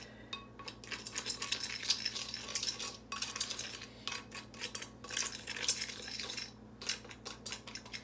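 Cornstarch and cinnamon are being mixed into an apple pie filling, with utensils clinking and scraping against a bowl in bursts of steady stirring, fairly close and moderately loud, with no talking.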